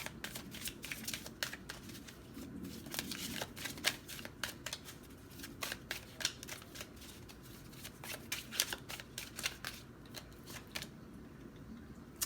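Tarot cards being shuffled and drawn, a steady run of soft, quick riffling flicks and slides, close but quiet, with no talking.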